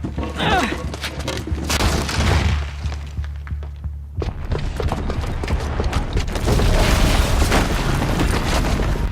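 A booby-trapped bomb goes off in Horizon Zero Dawn, a deep booming blast with heavy rumbling debris, a brief lull, then more sustained crashing and thudding.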